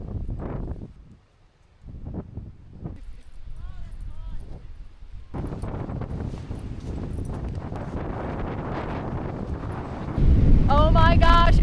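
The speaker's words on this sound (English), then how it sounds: "it's so freaking windy here" Strong wind roars across a Lake Michigan shoreline near Little Sable Lighthouse, a heavy buffeting rush that drops briefly, then builds and stays loud, with a voice faintly heard through it.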